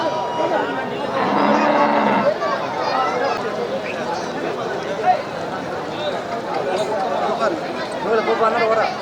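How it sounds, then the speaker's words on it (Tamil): Native breed cattle at a busy livestock market during the Tiruvannamalai Deepam festival, with several loud close moos rising over constant crowd chatter and nearby voices. "இது நாட்டு மாடு தான். ஒரு நாட்டு மாடு."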